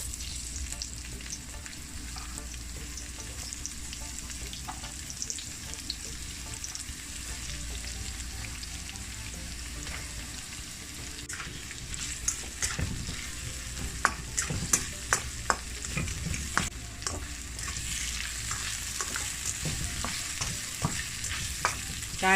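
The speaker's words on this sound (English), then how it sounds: "I just love frying up these onion and garlic" Onion, garlic and scallion sizzle and crackle steadily in hot oil, with occasional scraping and stirring clicks from a utensil in the pan.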